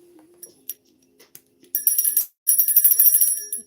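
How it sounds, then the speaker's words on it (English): A small hand bell rung to clear energy before a tarot reading, giving two bright sustained rings, the second longer, after a few soft taps and handling sounds. "where is my bell?"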